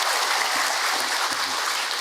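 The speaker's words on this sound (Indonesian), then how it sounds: "Tepuk tangan buat Ibu Hajah Maimunah." Steady, dense applause from a gathered audience at an Islamic religious talk, clapping continuously for Ibu Hajah Maimunah with an even, sustained wash of sound and no pauses.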